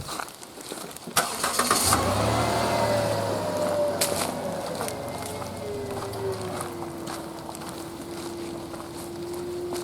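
A truck engine starts near the lakeside county park campground, a brief crank and catch followed by a steady idle and a rising then falling engine note as it pulls away, with some background noise.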